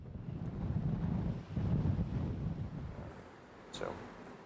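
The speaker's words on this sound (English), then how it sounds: "No easy feat with the wind and the waves." Wind and waves out at sea around an offshore construction ship positioning for wind turbine installation, a steady broadband rush that swells and eases with a brief hiss near the end, heard alone.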